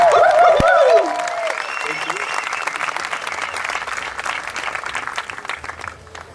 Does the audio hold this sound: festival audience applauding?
yes